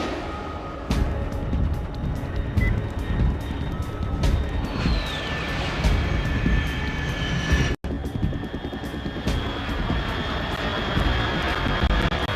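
Aircraft engine drone in the video game Metal Gear Solid 3, a steady, moderately loud broadband roar that holds throughout with faint tonal whines over it.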